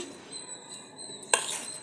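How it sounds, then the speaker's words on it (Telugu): A spoon stirs cumin seeds into dosa batter in a bowl, faint soft wet swishing with a single sharp clink of metal against the rim near the end. "జీలకర్ర వేసి కలిపేసుకుంటే అండి"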